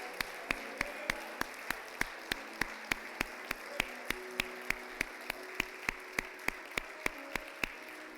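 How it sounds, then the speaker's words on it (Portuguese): Church congregation clapping in unison, a steady, even rhythm of sharp claps about three per second that continues throughout over a quiet room hum. "Aplauda o Senhor, queridos, aplauda a palavra dEle."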